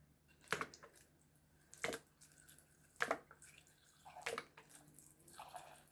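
Liquid splashes and gurgles in short bursts as distilled white vinegar is poured into a jug, four or five distinct pours spaced about a second apart, close and fairly quiet.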